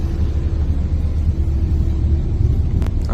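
A deep, steady rumble of heavy trucks and loading machinery at a coal mine, loud and close, holding level throughout with a brief higher noise near the end.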